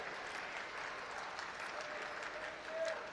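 Sustained applause from an audience welcoming guests at a formal public event in Gorakhpur, steady and dense clapping throughout that swells slightly near the end.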